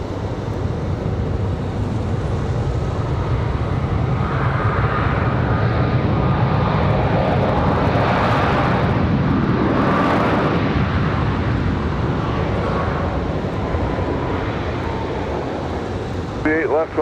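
A Boeing 737 MAX airliner touches down at Raleigh-Durham airport, a broad steady jet roar with swelling rushes heard from a distance, overlaid by faint background chatter.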